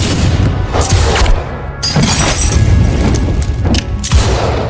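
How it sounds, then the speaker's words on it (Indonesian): A cowboy film shootout plays out with several loud booming gunshots fired at irregular intervals over a dense, noisy soundtrack. "terjadilah adu tembak di sana, di mana Christopher tertembak di dadanya"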